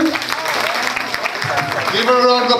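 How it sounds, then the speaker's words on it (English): Audience applause at an event, a dense spread of claps over a few seconds, with a voice talking over it and some musical tones toward the end. "Give her a round of applause"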